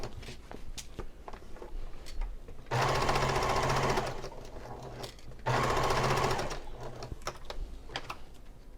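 A sewing machine bastes pillow sham pieces together in two loud, steady runs of rapid stitching, with quieter handling clicks and rustles in between.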